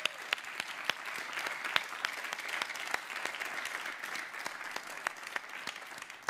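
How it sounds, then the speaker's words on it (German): A studio audience at a university information day applauds steadily, sustained rapid clapping with sharp individual claps standing out, moderate and fairly even throughout. "hier im Studio schon mal einen großen Applaus für alle Studis"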